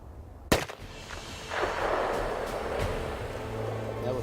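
A rifle fires a single sharp, loud shot during an elk hunt outdoors, followed by a rushing, echoing outdoor wash as the bull runs off.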